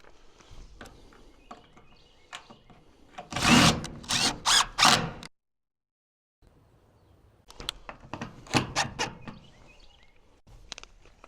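A power drill drives screws back into a chicken tractor frame in several short whirring bursts, with quieter handling and tapping noises between them.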